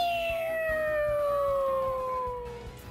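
A voice imitates the Mario Kart finish-line and banana-drop sounds, a loud sustained descending whistling wail with a slow downward glide, like a siren winding down, heard alone and close.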